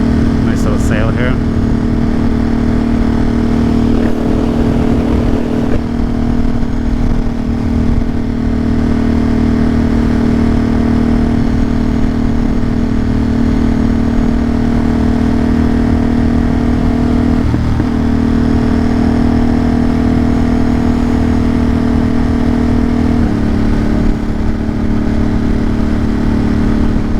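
Steady motorcycle engine drone while riding, a constant mid-pitched hum held at an even level for the whole stretch, with wind noise over it and someone talking now and then.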